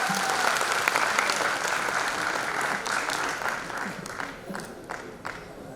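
Steady, full applause rolls through a crowd at an Indian Corps Day diamond jubilee celebration, holding strong before easing slightly toward the end.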